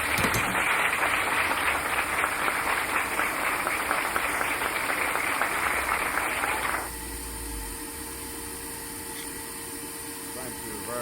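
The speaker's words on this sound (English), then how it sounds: "Thank you very kindly for your heartwarming applause" Audience applause from a crowd at a speech, dense and steady clapping that continues for about seven seconds before cutting off abruptly, leaving quiet room tone.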